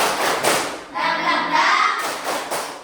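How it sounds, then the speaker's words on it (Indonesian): A classroom of pupils doing a rhythmic spirit clap, a few rounds of group claps and thumps in a patterned beat, with children's voices chanting along. "Tepuk semangat."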